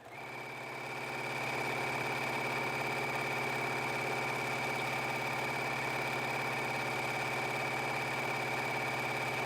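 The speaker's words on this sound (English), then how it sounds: "just sewing a very long seam down this side of the flannel" A sewing machine runs a long straight seam down the side of a flannel infinity scarf, giving a steady, even mechanical hum with a constant whine that holds unbroken throughout.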